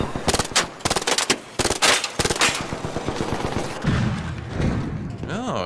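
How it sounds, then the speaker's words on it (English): In the video game ARC Raiders, the Arpeggio weapon fires several loud, close bursts of rapid shots separated by short pauses, followed by a lower rumbling tail and a faint voice near the end. "which I think is a nod to this being a burst fire weapon"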